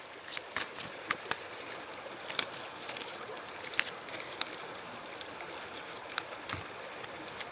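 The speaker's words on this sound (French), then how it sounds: "profitant bien du petit torrent qui s'écoule à mes pieds, juste à côté." A small mountain stream flows close by with a steady, even rush of water, broken by scattered light clicks and taps.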